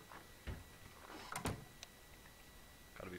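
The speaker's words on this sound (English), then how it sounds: "Gotta be polite, close your doors." In the game Counter-Strike: Global Offensive, a door bangs shut amid a few other short knocks and clunks, with sharp transients standing out over a low steady background.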